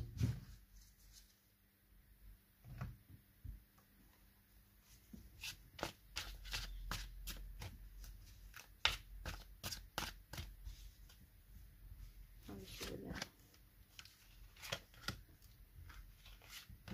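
Lenormand fortune-telling cards being shuffled by hand, quiet and close, with a slow start building into quick flurries of papery riffles and flicks, a short pause, then more shuffling.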